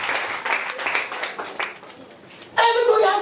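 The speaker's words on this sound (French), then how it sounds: "Applaudissez pour Jésus-Christ" Applause for Jesus Christ during a church service, a broad wash of clapping that swells loudly near the end, mixed with the sound of a congregation.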